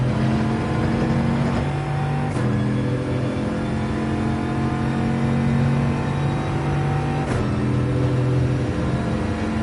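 A Bugatti Veyron in Gran Turismo 7 at the Red Bull Ring accelerates with a loud continuous engine drone, its pitch climbing then dropping sharply at two gear shifts, with no voices over it.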